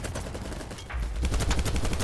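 Rapid gunfire bursts in a large 254-player capture the flag video game match, a continuous crackle of shots at moderate volume without talk.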